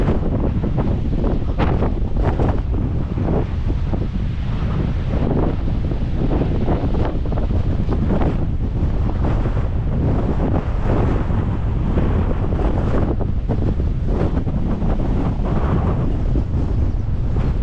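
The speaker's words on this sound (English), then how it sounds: "I'll be getting more of a breeze now when I'm up on top of this bank" Strong wind buffets the microphone on an exposed bank high above a valley, a steady loud roar with gusty surges throughout and no speech.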